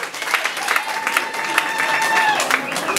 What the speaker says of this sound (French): Applaudissez s'il vous plaît pour leur